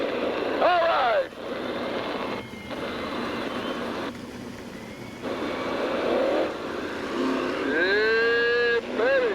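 Sprint cars at a Tulsa, Oklahoma dirt track rev their engines before the start, with loud whining bursts that rise and fall, brief gaps between them, and a crowd and announcer talking underneath.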